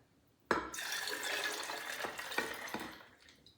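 Homemade ginger beer pours steadily into a pitcher with a sudden start and a splashy, bubbling flow that tapers off, close by and quiet overall.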